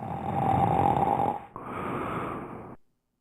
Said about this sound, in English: You don't have to snore.